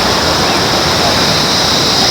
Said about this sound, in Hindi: यहाँ पे दिख गई अभी खतरनाक वाली जगह, नदी पूरे पहाड़ पे आ रखी है